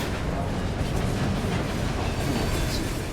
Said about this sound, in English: Train's too loud, can't understand you.